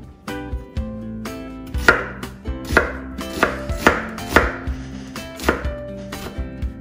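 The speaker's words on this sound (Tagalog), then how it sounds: "Slicing natin ang sibuyas." A knife slices an onion on a cutting board with about a dozen crisp, evenly spaced chops in a steady rhythm, close and clear with no talking.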